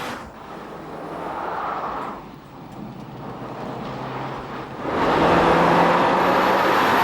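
A Mitsubishi Lancer Evolution 9 drives hard on small country roads, a steady loud engine and road roar that dips briefly then swells louder near the end, with no talk.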